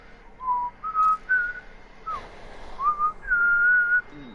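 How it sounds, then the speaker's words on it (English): A person whistles a wandering, tuneful melody of sustained notes and short slides during a Warframe gaming session, fairly close and clear with no talking over it. "why are you whistling?"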